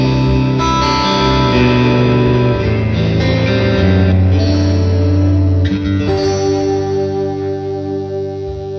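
Electric guitar played softly through a clean boost, staying clean: loud, sustained ringing chords that shift every second or so, then let ring and slowly decay toward the end, with no voices.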